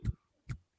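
Two soft, dull slaps of a single hand clapping against itself, about half a second apart, close and quiet with silence between.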